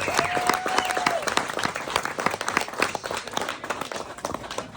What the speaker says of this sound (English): So one more time, a big round of applause for your newest inductee, Ray Ransom.